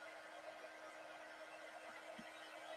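An embossing heat gun drying a chalk transfer blows a steady, faint whoosh with a constant hum throughout, with no speech.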